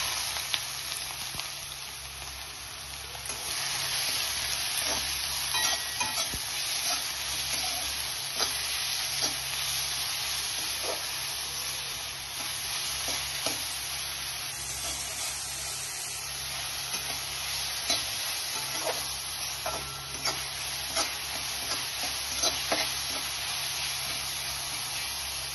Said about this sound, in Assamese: এতিয়া মই পিয়াজখিনি দি দিছোঁ।